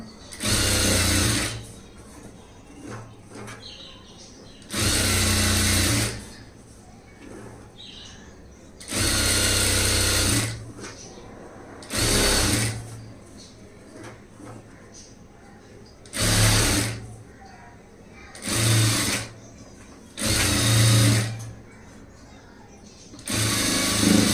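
A sewing machine stitches a front gap blouse in repeated bursts of whirring, each a few seconds long, separated by pauses while someone speaks between runs.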